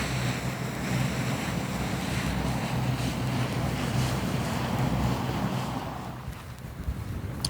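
Tidal waves wash along the west bank of the River Nene during sea fishing, a continuous loud rushing surge mixed with gusting wind noise on the microphone that eases near the end.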